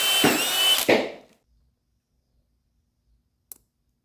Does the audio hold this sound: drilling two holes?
yes